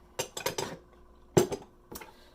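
A spoon stirring salt into gluten free bagel mixture in a bowl, making close, crisp clinks and scrapes: a quick cluster of three or four taps, then a couple of separate knocks after a pause.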